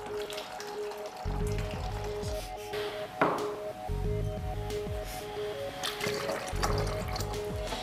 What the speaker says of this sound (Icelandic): Setjum 2 bolla af vatni og 1 bolla af borðediki í flöskuna.